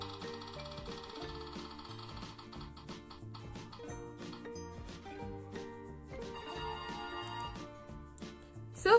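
A game-show style spinning wheel tune used to pick a dare plays as a steady looping melody with a repeating bass pattern and bright chiming notes, with no talking over it.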